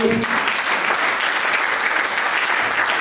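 A church congregation at a women's conference sermon applauds steadily for about three seconds, a dense, even clapping from many hands with no voices over it.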